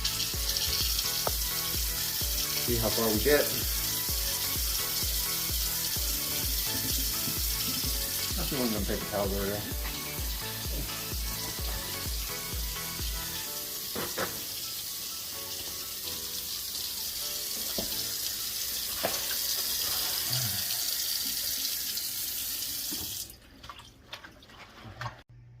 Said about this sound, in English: I'll go ahead and run some water down.